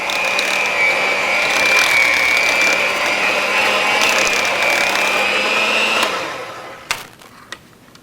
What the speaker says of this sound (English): We're going to go ahead and start with our rotary blender now.